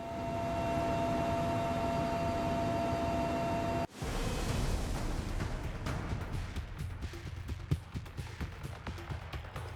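Helicopter on a one-hour flight to Kismayu, Jubaland, Somalia: a steady, loud cabin rotor and engine roar with a droning tone. It breaks abruptly midway into a rougher rush with scattered clicks and thumps.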